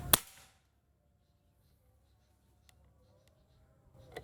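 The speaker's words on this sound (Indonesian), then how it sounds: "Oke, tembakan pertama" A single sharp shot from a Bocap Predator PCP air rifle cracks at the start during an accuracy test, then fades into quiet room tone with faint clicks and a small knock at the end.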